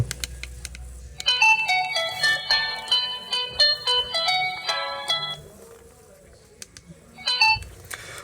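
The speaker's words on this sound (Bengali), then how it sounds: "ফোনটির মূল আকর্ষণ যে রিংটোন রিংটোনের সাউন্ড কেমন ছিল" A Marsel A27 keypad phone plays its built-in ringtone, a bright electronic melody of quick beeping notes that repeats for several seconds, then pauses briefly before starting again, loud and close with no voices.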